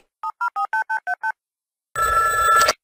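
In a Simpsons cartoon prank call, eight quick touch-tone dialing beeps sound in a steady rhythm, then after a short silence a loud telephone ring begins.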